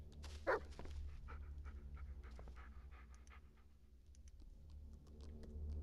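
A dog in the horror video game Blair Witch pants steadily and gives a short sharp yelp near the start, with faint whimpering and soft tapping sounds beneath, close and alone without talk.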